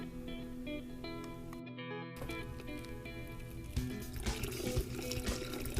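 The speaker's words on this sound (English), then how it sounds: "we can now add the dilution water to make our final slurry" Dilution water pouring into a lime slurry, a splashy gurgle that starts partway through over a steady mechanical hum, growing busier toward the end.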